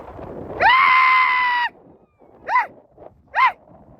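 Cattle and bullocks call out nearby on a hill: one long drawn-out cry, then a pause, followed by two short calls, over a quiet outdoor background.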